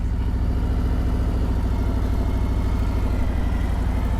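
A motorcycle engine running at low speed with the throttle fed lightly during a slow U-turn, a steady close, loud rumbling putter that holds an even pace throughout with no talking.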